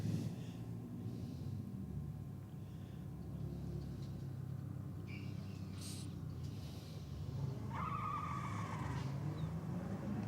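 A turbocharged Datsun race car getting way out of shape on track, with continuous engine roar and a rising tire screech late in the run, loud and steady throughout.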